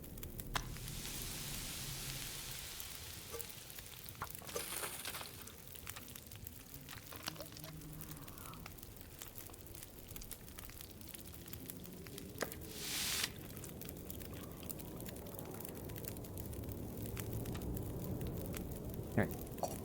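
Food sizzling as it cooks in The Long Dark survival video game, a steady broadband hiss and crackle that runs throughout with a few brief louder bursts.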